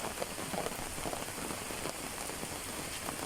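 Heavy rain from a typhoon pouring steadily on surfaces outdoors in the Philippines, a dense, constant hiss of drops without pause.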